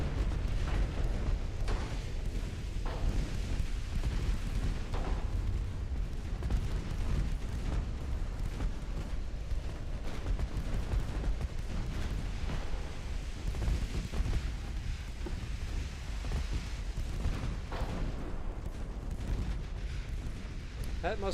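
Battleship naval guns boom again and again in a video game, heavy low blasts rolling over a steady noisy battle bed while voices talk over the action.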